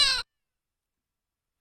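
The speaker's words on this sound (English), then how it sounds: "make this cat make the second meow sound" One short, bright cartoon meow from a cat sound effect in a Scratch video game, played once up close and cut off abruptly into total silence.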